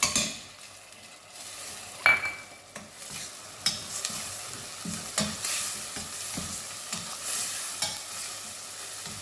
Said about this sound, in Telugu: ఇది కొంచెం మగ్గనిద్దాం ఈ టమాటా ఇది మంచిగా వేగినాయి